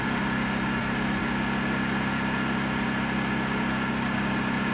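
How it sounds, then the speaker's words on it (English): A Honda inverter generator runs steadily at a low, even hum, a constant mechanical drone that stays unchanged throughout with no voices over it. "Of course the Honda's going to put out cleaner power because it's an inverter generator."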